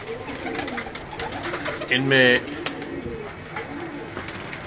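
Pigeons at a Karachi pigeon keeper's coo and murmur throughout, with a louder burst of cooing partway through, while someone talks over them.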